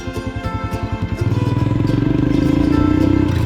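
Royal Enfield Himalayan motorcycle engine idling with a steady thumping pulse, then revving up and pulling away into a loud, sustained drone as the bike rides off, close and with no talking.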